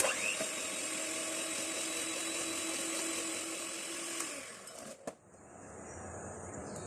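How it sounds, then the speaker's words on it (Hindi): A beater whips an egg into butter and sugar for almond fudge cookies, giving a steady close whirring drone that runs for several seconds and then cuts off, followed by quiet room noise. "ये अंडा इसमें डाल देंगे और थोड़ा सा इसको अंडे के साथ बीट कर लेते हैं"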